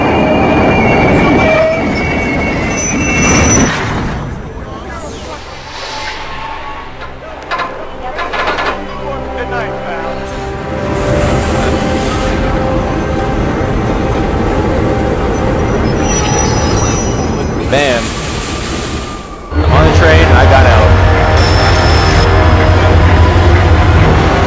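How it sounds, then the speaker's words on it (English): A train in the video game Hitman Absolution rumbles past with screeching, squealing wheels and rhythmic clatter, swelling loud then fading under background music. "Here's the train."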